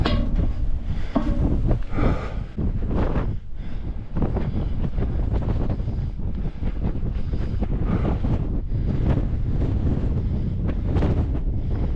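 Strong wind buffets the microphone in continuous loud gusts and roaring rumbles at the Sierra Buttes fire lookout in the Sierra Nevada mountains, with no voices heard.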